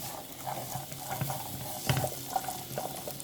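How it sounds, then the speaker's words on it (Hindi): Finely chopped onions fry lightly in a tablespoon of oil, giving a faint, soft sizzle with a few quiet stirring scrapes and clicks. The sound stays close but low in level, and no one speaks. "अब हम इसमें ऐड करेंगे प्याज जो हमने बारीक काट के रख लिया था। इनको हम लाइट सा फ्राई करेंगे"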